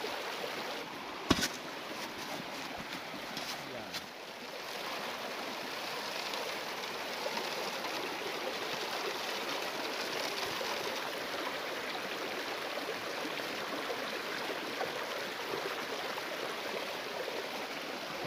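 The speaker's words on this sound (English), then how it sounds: "Let's go ahead and see if we got the sluice running right." Water rushes steadily through a gold sluice box beside the San Gabriel River, a continuous close wash of running water with a brief knock near the start, no talking.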